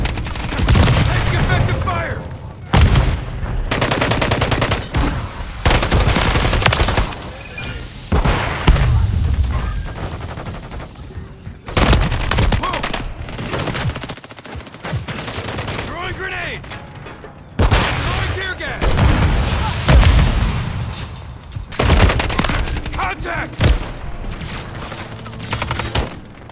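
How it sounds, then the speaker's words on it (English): Heavy gunfire in Call of Duty: Modern Warfare III, with repeated bursts of automatic fire and booming blasts arriving in loud clusters separated by short lulls, with game voice callouts over the top. "Taking effective fire!"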